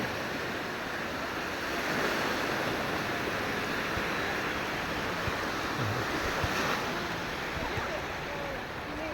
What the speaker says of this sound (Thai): คลื่นดีวันนี้คลื่นดีน่าเล่นมาก